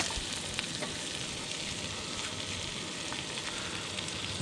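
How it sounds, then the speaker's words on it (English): Fish sizzling in butter in a frying pan, a steady close crackle and hiss with scattered pops, continuous and alone with no voices. "Those fish are cooking up nice."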